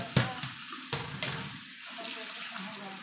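Tap water running in a kitchen sink while watercress is rinsed for Chinese watercress soup, with splashing bursts and a steady trickle, fairly quiet and close.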